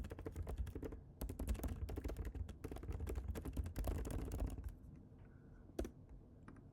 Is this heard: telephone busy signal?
no